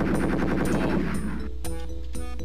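Rapid gunfire in the video game Spear Resurrection, a quick automatic burst of evenly spaced shots that trails off into a few scattered single shots and mechanical clatter.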